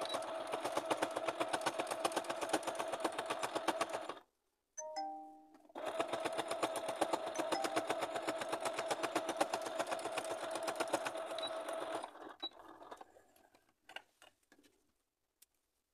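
A sewing machine runs in a fast, steady stitching rhythm while a bag organizer is sewn, pauses briefly, then resumes for several more seconds before winding down with a few scattered clicks.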